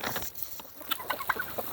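Chickens cluck in short, quick bursts at close range as they eat mealworms, with a busy pecking and scratching texture.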